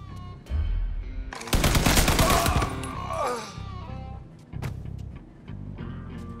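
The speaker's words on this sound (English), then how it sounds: "Shooting underpaid guards in a barrel." Gunfire from the video game Mafia III as guards are shot, a dense, loud burst of rapid automatic fire lasting about a second and a half amid game sounds, with scattered single shots after.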